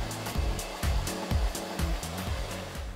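A hair dryer blows mousse through long hair, a steady loud roar with rhythmic whooshing pulses as the airflow sweeps back and forth, close up and with no talking.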